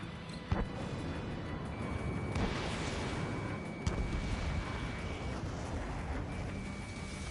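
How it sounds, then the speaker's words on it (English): Missile fire and explosions in a flight combat video game: a continuous rumbling roar punctuated by several sharp booming blasts, loud and dense, with no voices. "Locked on. Oscar 1 hit. Missile fire."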